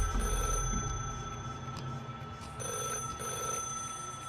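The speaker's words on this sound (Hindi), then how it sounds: "अनु को एक लैंडलाइन के बजने की घंटी सुनाई दी" An old landline telephone rings in a store room, a repeated electric bell trill in bursts, moderately near, with no voices.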